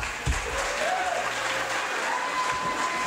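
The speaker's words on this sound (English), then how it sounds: "Let's give them a big round of applause." Big audience applause for beauty pageant contestants at a Miss Polonia USA event, a sustained dense wash of clapping in a large hall, loud and steady, with a faint voice and stage sounds beneath.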